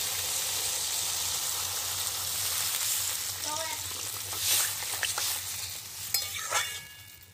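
A spiced prawn and ridge gourd curry is stirred in a hot pan, oil sizzling steadily with occasional spoon scrapes and splashes, someone speaking over the cooking.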